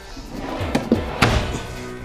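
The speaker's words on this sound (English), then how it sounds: "they do give you an oversized drawer with full extension roller guides to pull out all the way for" An oversized galley drawer on full-extension roller guides in a Voltage fifth-wheel toy hauler RV gives a few close, hollow thunks and knocks as it moves and shuts. A louder slam lands near the end.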